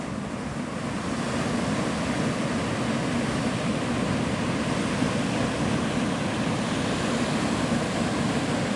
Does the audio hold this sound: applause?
no